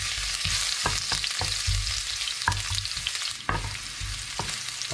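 Ginger sizzles loudly in hot cooking oil in a pan, a steady close fry with sharp stirring clacks and scrapes scattered throughout and no voices.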